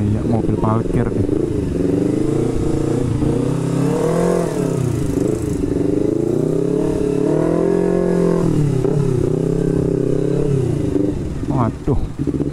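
A motorcycle engine hums and revs steadily while riding through a traffic jam, loud and close throughout, with a rider talking over the engine noise.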